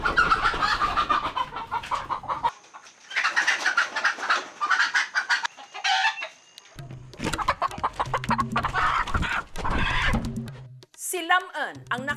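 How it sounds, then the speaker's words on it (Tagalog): Native chickens cluck and squawk repeatedly in a rural yard while people talk over them, ending with a sharp, louder burst of fowl calls. "maaga pa lang nang huhuli na siya ng manok"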